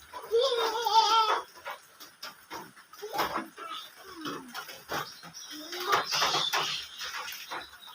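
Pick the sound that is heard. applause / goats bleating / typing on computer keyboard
goats bleating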